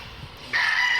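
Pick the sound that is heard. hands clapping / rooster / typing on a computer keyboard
rooster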